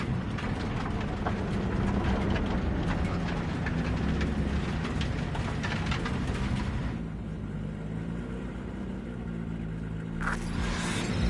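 A train rumbles and rattles steadily close by, with a softer stretch midway before the clatter returns, and no talk.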